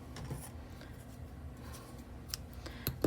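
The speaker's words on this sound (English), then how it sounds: "And then cut the yarn." Scissors snip through yarn after knitting a hat, a few quiet, crisp cuts near the end over a faint room hush.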